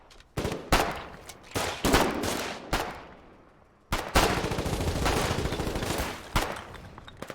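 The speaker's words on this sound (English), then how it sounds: "Can you shoot him? Give it a shot." Gunfire in the online war game Foxhole: loud, close bursts of automatic weapon fire, a brief lull, then a long sustained stretch of rapid shots with a few trailing pops.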